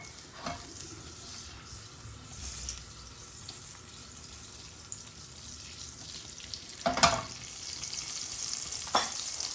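Leg of lamb searing in a pan of oil, olive oil and a knob of butter, giving a dense, continuous sizzle up close with a couple of sharper spitting bursts, no speech.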